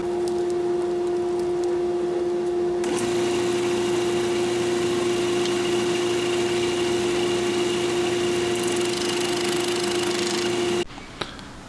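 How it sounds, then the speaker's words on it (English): A wood lathe spins an acrylic pheasant feather pen blank as a roughing gouge cuts it, a steady motor hum with a sustained tone and a loud rough cutting hiss, stopping abruptly near the end. "I will start this blank turning with a roughing gouge."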